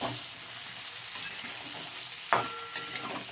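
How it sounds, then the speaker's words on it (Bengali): Potatoes and eggplant fry in oil in a home kitchen pan, a quiet steady sizzle broken by a few sharp clinks and scrapes of stirring, with no talking. "এইবার আমি আলু আর বেগুনটাকে খুব ভালোভাবে ভাজবো"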